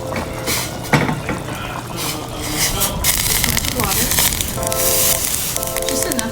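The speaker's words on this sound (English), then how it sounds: "I also have some water boiling that I'm going to add to this." Boiling water is poured into a pot of Haitian bouillon with a gurgling, splashing rush, amid clinks of cookware and a voice speaking nearby.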